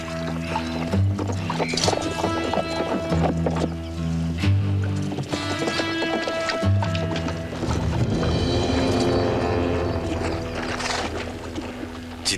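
Horse hooves clip-clop steadily on the ground in a western series about the Pony Express, a close, continuous rhythmic beat mixed with music throughout.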